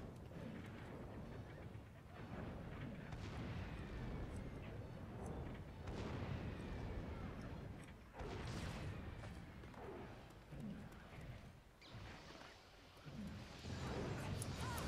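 Cannon fire in the Dragon Quest Heroes video game, with repeated heavy booms and blasts at irregular intervals over dense battle noise, loud and close.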